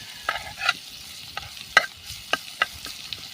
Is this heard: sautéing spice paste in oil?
yes